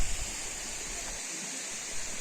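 A waterfall in the Carpathian mountains near Tustan fortress gives a steady, even rush of falling water that fills the short stretch without a break and without any voices.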